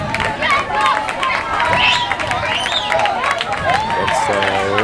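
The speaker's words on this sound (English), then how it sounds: "It's a round of applause for completing the race." Spectators at a primary school cross country race clap and cheer as the final runner finishes, steady crowd applause and chatter mixed with nearby voices, escorted by police bikes and a pickup.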